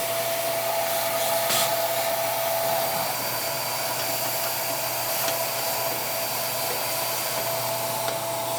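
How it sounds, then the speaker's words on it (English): Steady, loud vacuum suction runs without a break while ash is cleaned out of a Harman P-series pellet stove, with faint scraping knocks from the nozzle and no talking. "I'm going to vacuum this up one more time"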